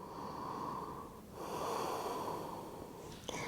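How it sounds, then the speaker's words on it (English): Slow, deep breaths drawn into the belly in yoga child's pose, a long airy inhale then a second rushing breath, close and fairly soft, with no talking over them. "Take a couple of really deep breaths into the belly."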